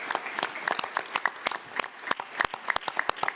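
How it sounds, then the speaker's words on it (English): Audience at an academic global health roundtable giving a round of applause as someone leaves, sparse individual claps from a modest crowd, uneven and moderately close. "please give him a round of applause"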